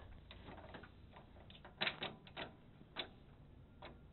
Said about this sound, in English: Same square shaft over here. Just crank it by hand.